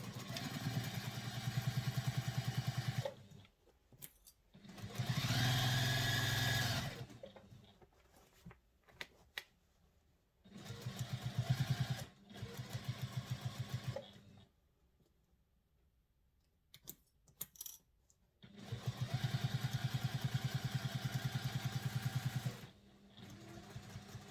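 A sewing machine stitches through the layers of a handbag in several loud, fast-running bursts of rhythmic mechanical clatter, with quiet pauses and a few clicks between them.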